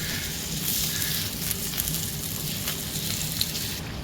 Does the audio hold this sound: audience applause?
no